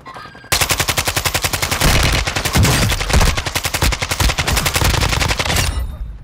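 Rapid sustained machine gun fire in a video game, loud and close, a dense continuous burst of evenly spaced shots running for several seconds before cutting off.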